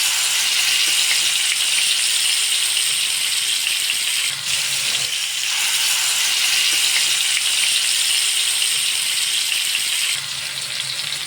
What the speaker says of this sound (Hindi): अब हम लेग पीसेस को पलटकर पका लेंगे।